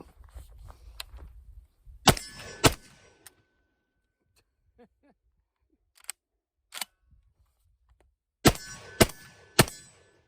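A GForce Arms Radikal MKX-3 semi-auto 12 gauge shotgun fires birdshot outdoors: two sharp reports close together, a long quiet gap with faint small clicks, then a quick string of three more blasts.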